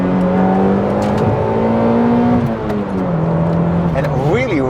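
A Toyota MR2 GT-S Turbo's mid-engine hums at a steady pitch, then climbs sharply in a rising rev past 7,000 RPM near the end, with a person talking over it.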